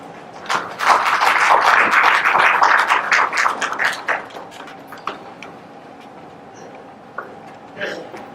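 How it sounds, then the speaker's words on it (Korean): An audience at a talk on the challenges of studying abroad applauds to welcome a speaker, with dense, crowded clapping that builds quickly, holds for several seconds and then thins out into a few scattered claps. "박수로 환영해 주시기 바랍니다."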